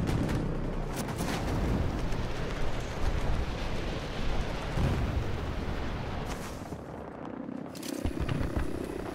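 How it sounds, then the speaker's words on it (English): An incendiary grenade explosion in Battlefield 2042 rolls out as a heavy, sustained rumble amid a dense wash of battlefield noise, with scattered sharp cracks of distant gunfire and blasts layered through a loud, churning combat soundscape. "Hitting with a great incendiary there."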